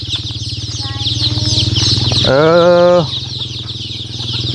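Chickens cluck nearby, and one bird lets out a louder drawn-out call in the middle, with farmyard background sound throughout.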